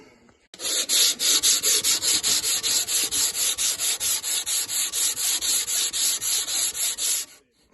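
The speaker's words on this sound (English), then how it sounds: "scrape as much as you can off with a blade. Clean it up with a file." Hand file on metal on a Chrysler Alpine engine, a loud, close, steady run of rasping strokes in an even rhythm, roughly three or four per second, with no talk.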